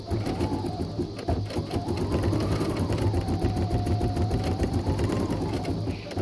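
An embroidery sewing machine stitches steadily and loudly at close range, its fast needle rhythm and motor hum continuing without a break and with no talk over it.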